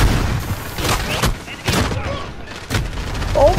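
Heavy gunfire in Modern Warfare multiplayer, with repeated loud bursts and booms over a noisy battle mix, and excited voices shouting over the shooting.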